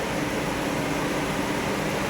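A steady, broadband whooshing drone of a car's radiator cooling fan running continuously after coolant bleeding, close and even, with no breaks or voices.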